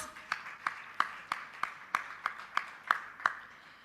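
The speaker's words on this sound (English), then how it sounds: "Once again, a big round of applause." Steady, evenly spaced claps at an awards ceremony, about ten crisp hand claps in a measured rhythm, moderately loud, with no talking over them.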